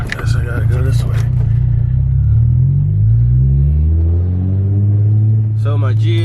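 A 2004 Infiniti G35 with a manual gearbox drives along, its engine a loud steady low rumble that rises in pitch as it pulls through the gears, with brief voices near the start and end.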